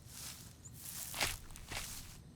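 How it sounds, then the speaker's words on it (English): Footsteps crunching through fallen autumn leaves on the ground, a few broadband rustling crunches at an uneven walking pace, fairly close and moderately quiet, with no talking. "Oh my gosh, that's the sound of the leaves."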